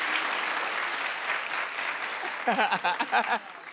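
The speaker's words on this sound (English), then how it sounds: "Clap if you see Whitney in this one." Studio audience on a daytime talk show breaks into steady clapping, a dense continuous patter that thins out as a voice or two speaks over the tail end.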